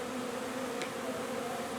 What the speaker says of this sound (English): I just thought I'd give you a look-see at what the bees are doing.